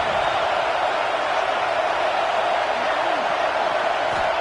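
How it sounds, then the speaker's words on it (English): A football stadium crowd at a Broncos versus Bears game makes a loud, steady roar that stays dense and unbroken throughout. "Listen to the crowd energy here in the early going."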